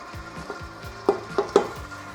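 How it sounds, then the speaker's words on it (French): A stand mixer kneads Viennese bread dough on first speed, giving a steady low churning hum with a repeating swish and several sharper thumps as the dough hook turns, close by and without voices. "On monte le batteur et on démarre en première."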